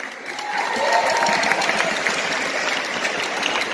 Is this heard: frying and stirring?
no